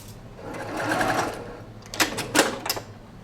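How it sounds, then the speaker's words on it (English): Sewing machine stitching across the seam intersection of quilt pieces, starting with a steady whirring run and then breaking into a few short, louder bursts of stitching at close range. "And I'm going to sew across the intersection and pull this pin."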